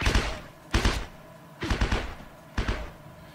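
Muffled, distant-sounding video game gunshots, four short dull bursts spaced roughly evenly, with a soft thumping quality.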